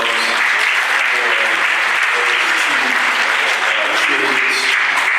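Loud, dense applause from the congregation at a funeral service fills the whole stretch steadily, with a voice speaking over it.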